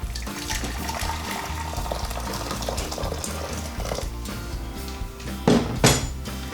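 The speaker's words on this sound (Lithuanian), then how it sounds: "Ir pasiėmėm kažkokį tais dubenėlį arba puodą, į kurį pilsim karštą verdantį vandenį." Boiling hot water pours into a bowl or pot as a gelatin mixture is prepared for a mascarpone cake: a steady close rushing stream with a couple of louder splashes near the end, over faint background music.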